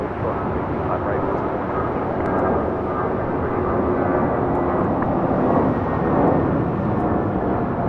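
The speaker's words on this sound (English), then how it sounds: "This is JetBlue 2532 taking off to Salt Lake City on an A320." A JetBlue Airbus A320 takes off at LAX with a loud, sustained jet engine roar. A voice talks over the noise throughout.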